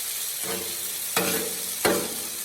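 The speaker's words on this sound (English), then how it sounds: "Just added the bacon, and the hash browns are still cooking fine." Bacon and hash browns fry in a pan with a soft, steady sizzle, broken twice by brief louder bursts as the food is stirred or shifted; no one speaks.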